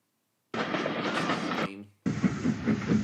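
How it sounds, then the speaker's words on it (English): Passenger train on the line to Portland, Dorset, a close, loud rumble of wheels and carriages with a rhythmic clatter, cut off briefly by a short gap before the rolling noise resumes at full strength. "Last passenger train to Portland, Dorset. Before the line closed."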